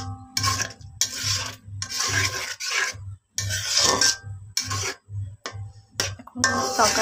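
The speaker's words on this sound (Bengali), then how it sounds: "নেড়ে দিলাম, আমি এটাকে নেড়ে দিচ্ছি।" A spoon or spatula repeatedly scraping and stirring curry in a pot, rhythmic rasping strokes roughly every half second, close and fairly loud, with no talking.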